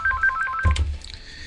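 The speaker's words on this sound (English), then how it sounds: "Oh, the phone is ringing." A telephone rings during a live radio show, a short electronic chirping tone followed by a click or handset pickup, close and clear with no voices.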